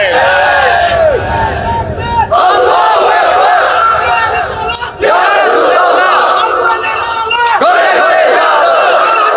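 A large crowd at a Bangla Islamic waz gathering chants the religious slogan Nara-e-Risalat in loud, repeated unison call-and-response bursts, with brief pauses between waves of voices.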